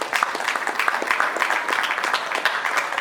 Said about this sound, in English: A hand of applause for YEEC Africa